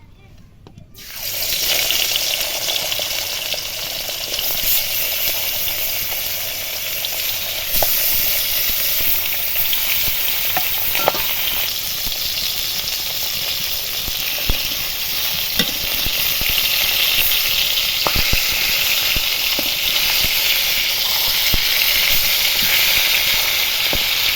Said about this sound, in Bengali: কড়াইয়ে তেল দিয়ে ভালো করে গরম করে নিয়েছি এবার মাছগুলো দেবো